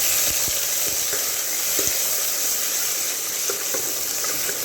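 Onions fry in hot oil as a tempering for egg gravy, producing a loud and steady hiss with small crackles scattered through it, close up and with no voices.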